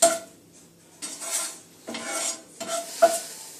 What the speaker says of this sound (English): I'm just going round and round in the pan